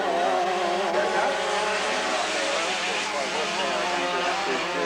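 High-pitched two-stroke motors of dirt karts with 35-horsepower 100 engines whine and rev as the karts race around a dirt track, loud and continuous, with an announcer talking over them.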